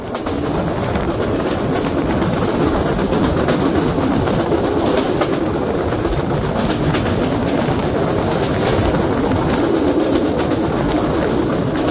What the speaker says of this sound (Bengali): ট্রেনটি কিন্তু তার সর্বোচ্চ ট্র্যাক স্পিডেই কিন্তু ছুটে চলেছে